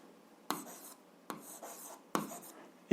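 Pen strokes scratching on paper while working an algebra graph exercise, three separate bursts of writing with short pauses between, close and moderately quiet.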